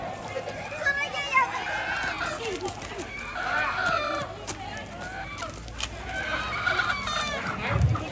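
Chickens cluck in a busy farmyard chorus, and a rooster crows several times across the clip, with voices chatting underneath at a Rambu Solo funeral gathering.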